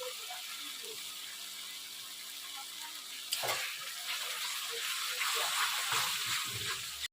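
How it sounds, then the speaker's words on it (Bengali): Boiled peas stir-fry in a pan, a soft steady sizzle that grows louder and busier partway through as the spoon scrapes and stirs, with light clinks. "সিদ্ধ করে রাখা মটর যেহেতু মটরটা সিদ্ধ করা তা বেশিক্ষণ কষাবো না দু মিনিট মতো কষিয়ে নিলেই হবে"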